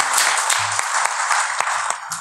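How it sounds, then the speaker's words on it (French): Steady applause from a seated audience at a public meeting on a shared territorial project, dense and continuous for a couple of seconds with a few sharper individual claps, no voices over it. "on peut l'applaudir, hein, parce qu'il mérite bien quand même"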